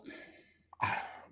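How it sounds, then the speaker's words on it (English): A single muffled cough from a person on a sports talk broadcast, preceded by a soft breath and a brief click, close and fairly quiet with no speech around it. "That cough is coming out of nowhere."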